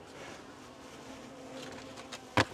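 Honey bees in a horizontal Langstroth hive during a fall inspection give a faint, steady buzzing hum throughout, with a brief louder burst near the end as one bee passes close.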